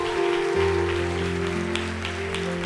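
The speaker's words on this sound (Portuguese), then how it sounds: "Vamos aplaudir a Deus pela vida delas?" A church congregation applauds steadily for the whole stretch, a dense patter of clapping layered over sustained, droning musical tones.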